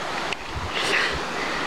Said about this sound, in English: we are over at the river